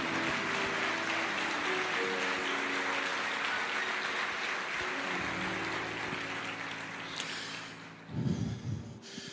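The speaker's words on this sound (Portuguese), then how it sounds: "A igreja aplaude ao Senhor." A church congregation applauds in a dense, sustained wash of clapping that fills the room for several seconds, then fades as a low rumble of movement takes over at the end.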